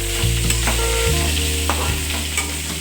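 Eggplant stir-fried in a hot pan gives a loud, steady sizzle, with occasional scrapes and knocks as it is turned.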